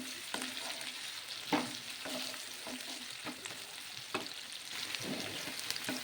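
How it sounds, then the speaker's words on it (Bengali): Sliced onion fries with bay leaf in hot oil for a Bengali tomato rice, with a steady sizzle and repeated scraping stirs of a spatula through the pan, close and fairly loud, with no talking. "এবার পেঁয়াজটা কিন্তু খুব ভালো করে এই ফোড়নের সঙ্গে মিশিয়ে ভেজে নিতে হবে।"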